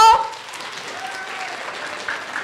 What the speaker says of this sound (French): Est-ce qu'on peut les applaudir très,